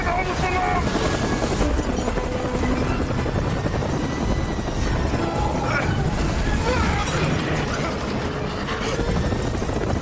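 Helicopter hovering with rotor blades spinning, a loud, dense, continuous roar and chop that fills the whole stretch, with wind buffeting the mic.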